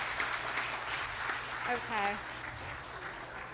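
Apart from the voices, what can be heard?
audience applause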